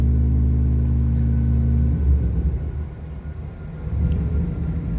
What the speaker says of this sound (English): Old J&T wagon, putting down some numbers on the rollers.